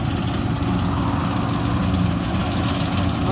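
A Massey Ferguson MF 27 combine harvester runs at a barley harvest, its engine giving a continuous, even, heavy low rumble with a steady mechanical drone, close and unbroken throughout, with no voices.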